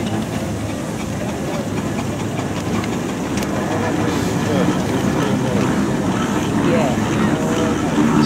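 A Foster steam traction engine rolls past at a steam and vintage rally, a steady loud mechanical chuffing and rumble that holds close and builds slightly throughout, with some chatter mixed in.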